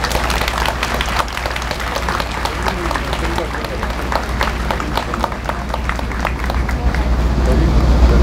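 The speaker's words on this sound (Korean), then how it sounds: "회장님 나오실 때 박수로 크게 맞아주시길 바라겠습니다." A large crowd of doctors and medical residents at a national strike rally claps and murmurs as the association president comes forward, a continuous wash of applause mixed with crowd noise that swells slightly at the end.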